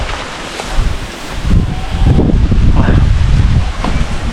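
Strong wind buffets the microphone at an outdoor camp among fruit-bearing trees, a continuous broadband roar that swells and gusts throughout with no talking.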